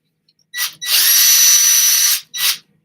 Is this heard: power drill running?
yes